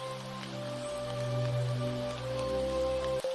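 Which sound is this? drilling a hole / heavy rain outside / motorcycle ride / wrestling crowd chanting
heavy rain outside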